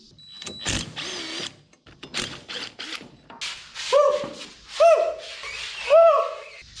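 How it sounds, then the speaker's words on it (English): A large speed wrench twists and straightens welded metal in a welding shop, giving uneven ratcheting clicks and grinding mechanical bursts with rising creaks toward the end, loud and close. "putting the big speed wrench on here and just kind of twisting it some and straightening it up"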